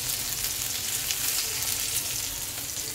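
Pieces of bombil fish frying in a pan, a dense, even sizzle that holds steady and close throughout, with no voices.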